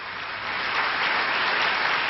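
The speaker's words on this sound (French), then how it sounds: "Les applaudissements extrêmement nourris qui accueillent le président Carter prouvent l'incroyable élan de popularité" Sustained, dense applause from a press conference crowd greeting President Carter in 1979, loud and steady throughout with no talk over it.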